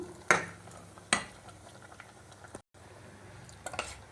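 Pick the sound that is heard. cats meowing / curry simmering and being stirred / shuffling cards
curry simmering and being stirred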